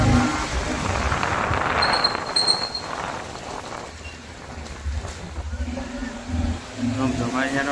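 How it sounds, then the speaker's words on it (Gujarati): A Bajaj Pulsar motorcycle on the move, with a steady engine drone and rushing wind noise throughout and a voice speaking over the ride. "આ રહ્યું અમારું બાઈક પલ્સર"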